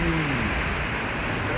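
Steady rain hiss fills the short stretch, constant and moderately loud, with a faint low tone fading early on.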